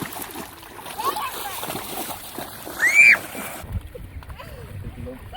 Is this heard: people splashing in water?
yes